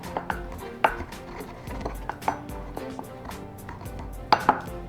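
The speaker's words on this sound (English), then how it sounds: "We're gonna go back over here and keep on grinding that down." Ingredients ground down by hand for oven-roasted jerk chicken, heard as a series of close, irregular knocks and thuds with a few louder hits; no speech.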